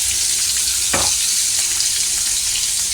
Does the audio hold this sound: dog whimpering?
no